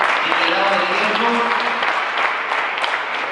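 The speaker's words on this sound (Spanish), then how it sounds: "Un aplauso." Audience applause after a project pitch at a maker fair, a short, steady burst of clapping from the crowd with voices faintly mixed in.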